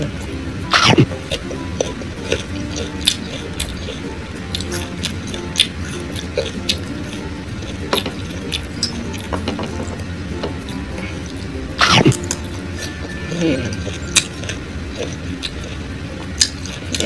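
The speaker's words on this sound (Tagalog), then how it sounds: "halos araw-araw ako kumakain ng manga" Close, crisp crunching and wet squishing of someone chewing firm green mango, with scattered sharp bites and quiet mouth sounds over a low background.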